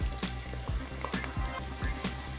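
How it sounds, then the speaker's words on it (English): Garlic and grated tomatoes frying in a pan give a steady close sizzle, with softer stirring clatters recurring at a regular, roughly half-second rhythm, and no talking. "So now we can add in our garlic"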